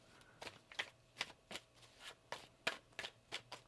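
A deck of tarot cards is shuffled by hand in a run of about a dozen crisp riffling bursts, close and fairly quiet, each separated by a short pause, with no voices.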